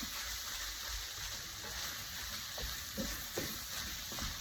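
Ground taco meat sizzles and crackles steadily in a frying pan as water is added, a continuous hiss of frying with a few louder spits and pops toward the end.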